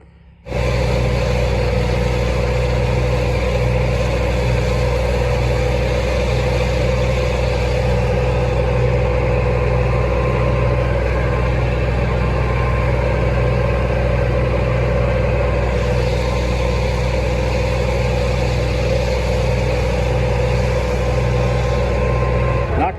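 A tractor engine runs continuously and loudly while baling hay on sloped river fields, holding a steady drone with only slight shifts in pitch.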